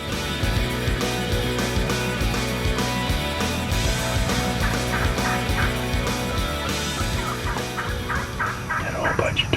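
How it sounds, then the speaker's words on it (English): Wild turkeys gobble repeatedly in a field during a Wisconsin hunt, loud overlapping rhythmic calls from several birds close by, with no talk. "Had a whole bunch of turkeys in."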